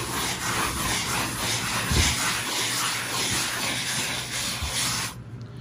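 A wet sponge rubs over knockdown drywall texture with a continuous, close, hissing scrub that carries faint repeated strokes, then stops abruptly near the end.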